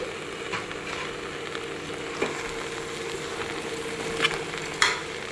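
Soya chunk masala rice being stirred in a pan, with a steady low sizzle and a few sharp scrapes and clinks of the spoon against the metal, close and alone.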